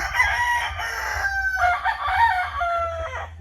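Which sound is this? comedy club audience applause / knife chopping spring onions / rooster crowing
rooster crowing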